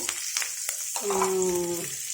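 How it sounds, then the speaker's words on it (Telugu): Spice tempering sizzles in hot oil while a peanut chutney is made, giving a steady close frying hiss with a brief ringing tone in the middle. No one speaks. "నూనెలో పోపు దినుసులు వేసుకుందామండి"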